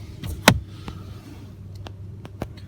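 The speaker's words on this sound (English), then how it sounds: "Lock, unlock." Door locks on an Infiniti Q70 sedan actuate in two quick mechanical thunks, one sharp and near, followed by softer clicks, with no speech.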